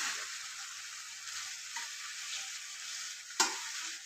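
Pieces of fried chicken for a chicken roast sizzle steadily in masala while being stirred, a continuous hiss with one sharp clatter of the spoon against the pan near the end; no talking.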